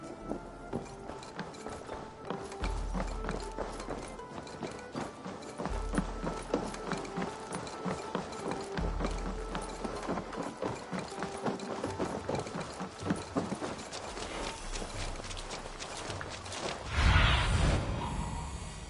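Horse hooves clop in a steady rhythm in the video game Assassin's Creed Valhalla, Wrath of the Druids, accompanied by mechanical game effects and a louder whoosh near the end.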